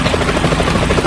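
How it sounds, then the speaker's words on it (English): A helicopter approaching in Metal Gear Solid 2, a loud, close, rapid rotor chop pulsing steadily over a broad engine roar, with no voices. "Is that a chopper I just heard?"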